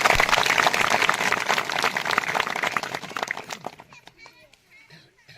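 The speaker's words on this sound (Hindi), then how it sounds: "एक बार जोरदार ताली से स्वागत करें" Villagers at a deity gathering in Singanpur, Dhamtari, welcome the Barapali deity committee with loud crowd clapping. The applause is steady, then thins into scattered claps and fades out.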